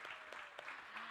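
Audience applause in a conference hall after a policy discussion, a steady wash of many hands clapping at moderate level for a short burst with no voices over it.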